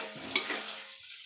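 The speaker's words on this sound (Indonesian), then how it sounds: "Ini goreng asin." Salted fish fries in a pan in a home kitchen, giving a steady close sizzle and crackle with a brief stir partway through before the sizzle thins out.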